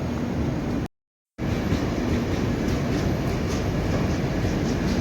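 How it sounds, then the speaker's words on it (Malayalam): A train pulling into Thrippunithura railway station, its steady loud rumble and rattling wheels continuing close by, broken by a brief dropout early on. "ഈ വരുന്ന ട്രെയിനാണ് ഞാൻ വന്നത്."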